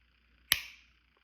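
A stock Glock pistol's trigger resets with one sharp, crisp metallic click that rings briefly and dies away in quiet surroundings.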